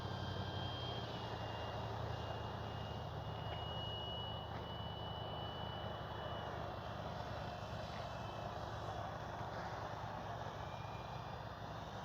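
A radio-controlled F4U Corsair model airplane flying, its propeller engine a steady, continuous drone at moderate distance that holds level throughout without a break.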